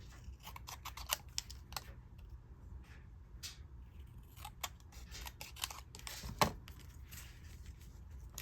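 Scissors snip through card stock during card making, giving a series of faint, sharp crisp cuts over a low steady background hum.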